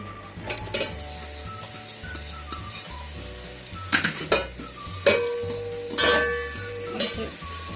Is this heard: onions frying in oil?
yes